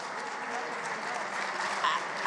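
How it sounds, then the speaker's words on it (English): Assembly delegates in a large hall break into broad, even applause, a steady wash of many hands clapping at moderate distance throughout, with a murmur of voices mixed in. "I don't know what you're clapping about,"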